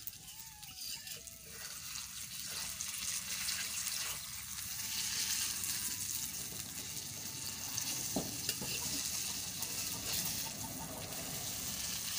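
Taro leaf mixture being stirred and roasted in a pan, a steady broad sizzle with scraping stir sounds running throughout, a faint tonal hum early on and a sharp clink near the end.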